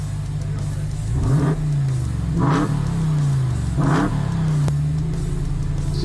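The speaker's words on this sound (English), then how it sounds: "Here, listen to this motor." Car motor revving hard, with three rising engine sweeps that climb and fall back over a steady idle rumble, loud and close, with no talk.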